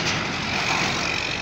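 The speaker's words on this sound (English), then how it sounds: "Big truck has come." A big truck passes close by, a loud, steady rumbling roar of engine and tyres with broadband road noise throughout.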